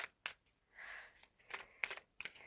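A deck of tarot cards being shuffled gives a few faint, quick papery riffles and snaps in short bursts, with quiet gaps between them and no talking.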